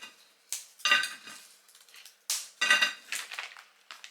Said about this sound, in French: comme ils sont trop grands, je vais les couper en deux